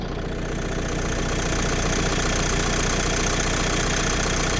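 A 2016 Nissan X-Trail engine idles with a steady, loud, even mechanical drone and a fine rhythmic knock, running alone without talk.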